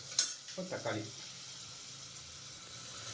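Onions and green chillies sautéing in a pan for sambar: a quick clatter of stirring at the start, then a steady, moderate sizzle that carries on alone.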